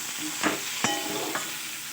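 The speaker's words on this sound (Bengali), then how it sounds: "দিয়ে দিচ্ছি কেটে রাখা টমেটো আর গোটা কয়েকটা কাঁচা লঙ্কা দিয়ে আবার ভালোভাবে নেড়ে চেড়ে" Chopped tomatoes and whole green chillies sizzle in a pan while being stirred, a constant frying hiss broken by three quick scrapes of a spoon against the pan.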